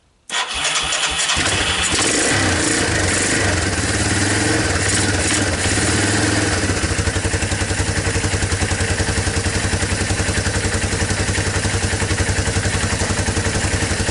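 Yamaha Moto4 ATV fitted with a clone carburetor, cold-starting from a barn-find state: a brief quiet crank, then the engine catches and settles into a loud, steady, rapidly pulsing idle close to the microphone.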